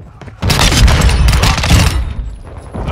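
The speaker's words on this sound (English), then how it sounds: "Taking effective fire!" Loud, dense bursts of automatic gunfire in Call of Duty Modern Warfare 2 multiplayer, erupting suddenly and rattling on continuously, with radio-style voice callouts layered over the shooting.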